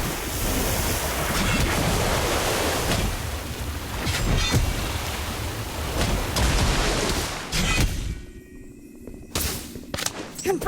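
A water orb spell cast in the Harry Potter: Magic Awakened video game, a loud sustained rushing, surging wash of water that fills the scene for about eight seconds before breaking off into brief sharp bursts.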